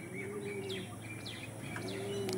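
Kalanka breed pigeon, an old-generation male, gives a low steady coo that runs nearly the whole moment alongside faint chirps, close and moderately loud, with no talking.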